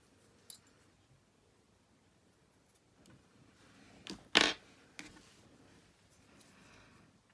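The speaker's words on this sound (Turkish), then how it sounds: "Buradaki ipimizin fazlalığını keselim." Scissors snip off the excess yarn from a crochet ship's wheel motif: one crisp, close cut stands out among soft, faint handling rustles and small clicks in a quiet room.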